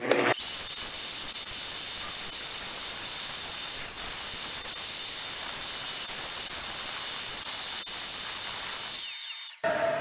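A router cuts wood in a jig while building an 18th-century chest of drawers, giving a loud, steady, high-pitched whine that runs unbroken for about nine seconds and then stops abruptly.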